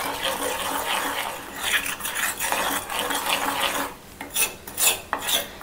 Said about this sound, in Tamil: கை விடாமல் நல்லா இந்த மாதிரி கலக்கி விட்டுக்கிட்டே இருங்க